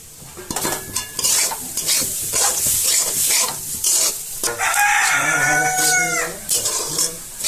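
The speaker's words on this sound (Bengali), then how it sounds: "এবার তিলটাকে ভেজে নেব" Sesame seeds crackle and sizzle in hot oil while a spoon stirs, and a rooster crows partway through.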